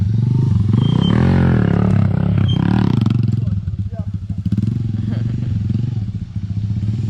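A motorbike engine revs and labours close by as a learner rider tries a wheelie, rising and falling under loud excited voices talking over it.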